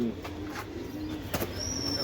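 Racing pigeons, kept in a club breeder's loft, coo softly in low repeated calls amid loft noise, with someone talking over them.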